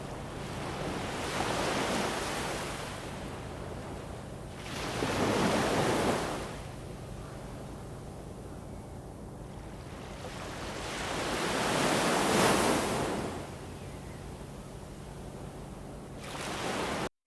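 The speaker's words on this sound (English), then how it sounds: "The first thing you hear is the wind. It howls across the empty shore" Wind sweeps across an empty shore in broad, rushing surges that swell and fade every few seconds, with loud gusts alongside a steady breaking-surf wash; no voices.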